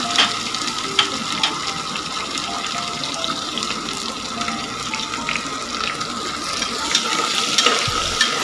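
Chopped onions and curry leaves fry in oil for tomato bath, a continuous close sizzle with light stirring scrapes and a soft thump near the end, no voices.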